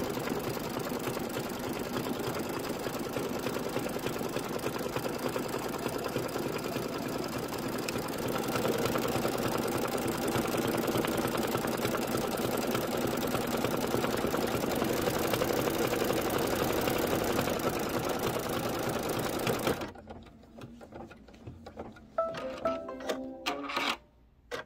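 An embroidery machine stitches fabric near the bottom edge of a blank pillow, a continuous loud rapid mechanical whir lasting about twenty seconds before stopping, followed by a few scattered clicks and handling sounds.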